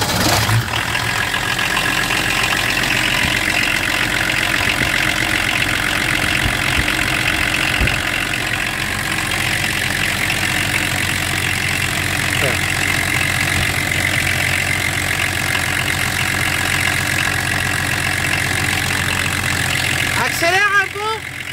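A car engine that has lost a lot of fluid turns over and runs at a steady, loud idle throughout, close by, with voices speaking over it and a brief rev at the very end.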